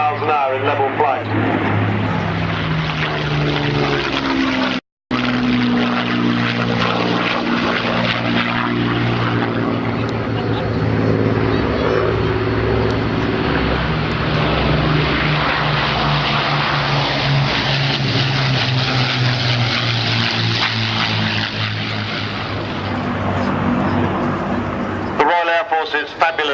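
A Hawker Hurricane and other WWII propeller aircraft fly over the 2005 RAF Cosford air show, a loud, sustained piston-engine drone that swells and shifts in pitch as it passes, with an announcer talking over it throughout.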